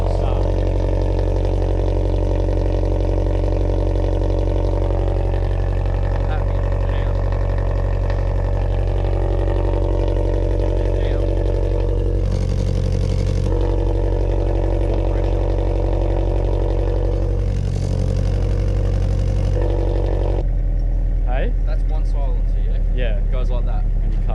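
A 1986 car engine runs steadily with a newly installed exhaust front pipe, a loud, deep idle rumble close by, with a few brief revs and people talking over it.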